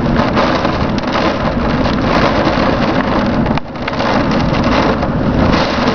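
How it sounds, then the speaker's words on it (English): A windstorm batters a house from outside, a loud continuous roar with crashing, splintering impacts of debris striking the walls, one brief lull before the pounding resumes. "And things are just flying into my house."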